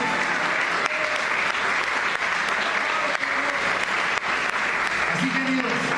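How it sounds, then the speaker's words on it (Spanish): A church congregation at a special service bursts into loud, sustained applause, dense rapid clapping filling the room close by without pause. "Denle una ofrenda de palmas"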